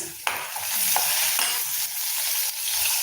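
Tomato thokku mixture frying and being stirred in a pan, a steady close sizzle broken by scraping strokes of the spoon roughly once a second, with no voices.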